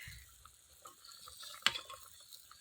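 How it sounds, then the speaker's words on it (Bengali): Potato curry boiling in a pot while being stirred, with faint bubbling and soft scraping and one sharp clink partway through, all quiet. "আলুর ঝোলটা বসিয়ে দিয়েছে, ফুটছে দেখুন কত সুন্দরভাবে"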